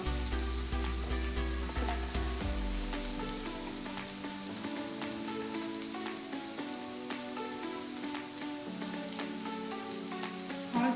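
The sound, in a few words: onions sautéing in a pan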